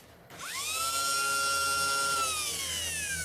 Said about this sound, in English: now when I push this button here, it can spin